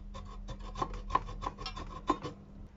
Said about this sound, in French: J'ai choisi de faire un trait à la scie à métaux.